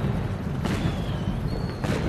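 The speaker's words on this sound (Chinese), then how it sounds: "烟花。" Fireworks go off outdoors at night in a period drama, with two muffled booming bursts, one early and one near the end, over a steady rumbling background. No one speaks.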